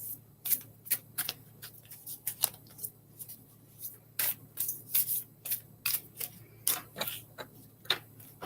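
Large cards are shuffled again and again in sharp, crisp riffling bursts, close by and fairly quiet, with short pauses between each shuffle.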